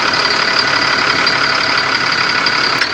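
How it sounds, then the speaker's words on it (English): A Cat C7 diesel engine being cranked while its fuel filter is replaced and the system primed, giving a steady, loud mechanical churn that holds evenly for the whole stretch, with no voices. "go ahead and crank it again"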